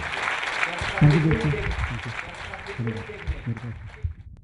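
Audience applause for a health talk by a doctor, a crowd clapping steadily and moderately loud while a voice speaks over it.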